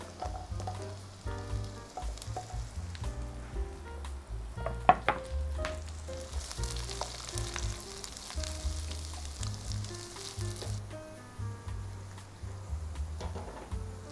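Carrots sizzle and fry in a hot pan for a squid capcay, a steady crackling hiss with occasional stirring clatter and a brief sharp knock midway, continuous and fairly close throughout.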